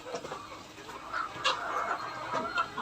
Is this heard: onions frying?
no